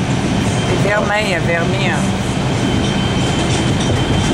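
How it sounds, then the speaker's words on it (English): Aboard a New York subway number 5 express train, a loud, steady rumble and rattle fills the car while someone speaks over it. "Here we are on the number 5 express, headed for 86th Street. Clickety-clack, clickety-clack."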